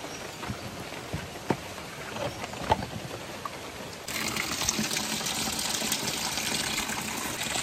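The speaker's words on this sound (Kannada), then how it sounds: "ನೀರು ತುಂಬ್ತಾ ಇದೆ." Water pouring steadily into a container, a continuous gushing rush that turns fuller and louder partway through, with a few knocks and splashes, no voices.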